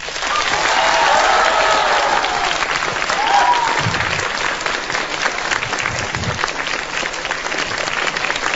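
A live audience at a talk on depression applauds to welcome the guest speakers, loud sustained clapping that fades slightly toward the end.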